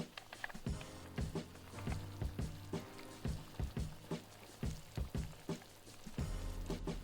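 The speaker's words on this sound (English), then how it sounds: "we got the broth up to a nice rapid boil" Beef bone broth bubbling at a rapid boil in a stockpot, a steady churning wash of liquid broken by repeated splashing pops and bursts close by, with no talking.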